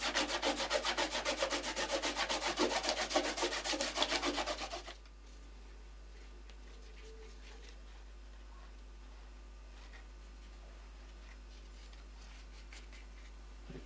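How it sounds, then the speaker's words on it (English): Fingers rub masking fluid off watercolour paper in a snow scene painting, making a loud, fast, rhythmic scratchy scrubbing close up for about five seconds, then stopping to near silence. "Remove the masking fluid by rubbing with your fingers."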